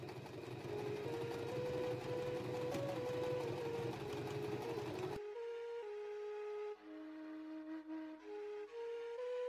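Sewing machine stitching fabric at a craft workshop: a steady, close mechanical whir that runs for about five seconds, then stops, leaving a quieter tonal hum with small bumps.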